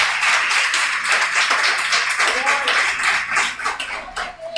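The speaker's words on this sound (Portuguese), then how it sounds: "Você pode bater palmas, exaltar o nome do Senhor." Church congregation clapping during a worship service, a dense, steady patter of many hands lasting throughout, with voices and faint cheering mixed in.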